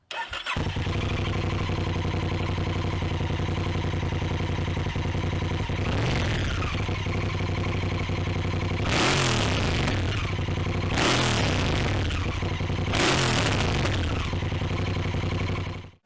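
A tuned Honda Africa Twin motorcycle engine runs steadily, then revs up sharply in three loud bursts of acceleration, with no talking.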